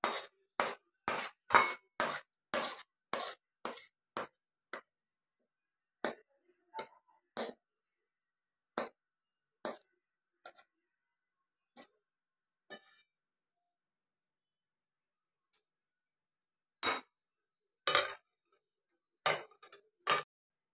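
Garlic chutney spooned from a pan into a bowl, heard as a quick run of sharp, close metallic taps and scrapes, then sparser clinks, a long quiet pause, and a final cluster of taps.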